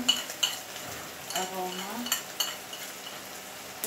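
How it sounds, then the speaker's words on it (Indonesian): Fried kwetiau noodles are stirred in a pan, with repeated scraping and clinking of a utensil over a steady sizzle and a brief spoken word. "dan kita aduk rata dulu"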